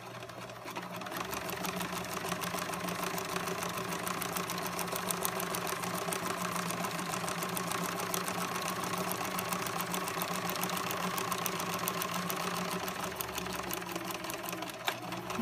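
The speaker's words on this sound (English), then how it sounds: "I'm just going to zip it through the sewing machine" A sewing machine runs a tight straight stitch through paper, a steady, continuous mechanical whir of rapid needle strokes that holds at an even level throughout, with no talking.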